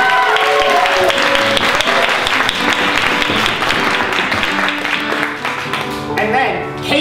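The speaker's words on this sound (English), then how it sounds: "can we do a big round of applause for Mr." A theater audience at an improv event breaks into sustained applause, dense and loud throughout, with a musical jingle playing underneath and tapering slightly toward the end.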